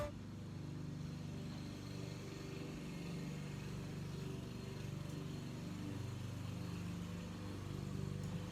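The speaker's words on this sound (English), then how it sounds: "You can hear my son mowing the yard in the background" A lawn mower cutting a yard drones faintly in the distance, a steady low motor hum that holds constant throughout, with no talking.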